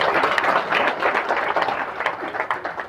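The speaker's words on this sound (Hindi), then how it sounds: "एक बार ताली बजाओ।" An audience claps together in a dense, steady patter of many hands, moderately loud and continuous throughout, with no clear talk over it.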